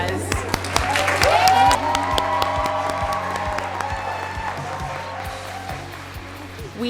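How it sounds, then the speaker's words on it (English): Sustained applause from a seated audience at an adult high school graduation ceremony in a library, steady dense clapping with a few cheers, swelling early then slowly tapering over several seconds. "applause."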